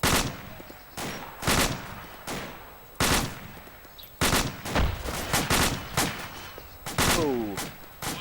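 Rifle gunfire during a fireteam drill, loud sharp shots in quick irregular bursts and singles, close and echoing, with a brief voice near the end.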